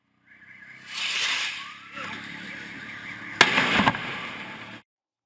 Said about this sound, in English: the firework spirals into the street, just missing another biker before exploding under a bus